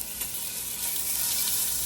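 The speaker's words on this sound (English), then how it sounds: "we're gonna go ahead and throw our chicken in. Ooh, nice sizzle." Chicken pieces sizzle steadily in hot oil in a pot for jambalaya, a close, continuous crackling hiss.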